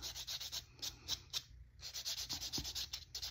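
A buffer rubs over an acrylic nail to clear filing residue after a soak-off, a close, steady scratchy rasping in quick repeated strokes with a brief pause midway.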